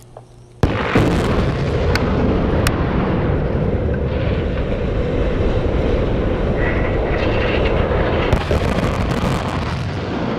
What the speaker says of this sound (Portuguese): essas explosões foram suficientes para desequilibrar a torre de 213 metros de altura